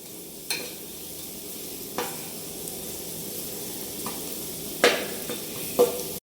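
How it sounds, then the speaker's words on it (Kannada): Garam masala frying in a pan for palak sambar, a soft constant sizzle with a few separate scraping clicks from a spoon stirring it. "ಅದಕ್ಕೆ 1 ಸ್ಪೂನ್ ಗರಂ ಮಸಾಲ ಹಾಕಬೇಕು. ನೋಡ್ಬೋದು ನೀವು ಇಲ್ಲಿ ಯಾವ ಥರ ಫ್ರೈ ಆಗ್ತಾಯಿದೆ ಅಂತೇಳಿ."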